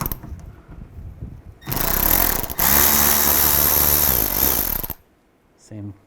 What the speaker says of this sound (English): And you can remove the screw right here.